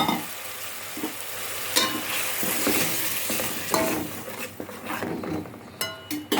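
Tomato puree frying in oil in a pan, a steady close sizzle with spoon stirring and occasional clinks against the pan, no talking.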